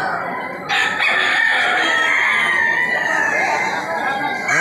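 A gamecock crows loudly and close at a cockfighting coliseum, a long drawn-out call, with other birds and faint voices in the background.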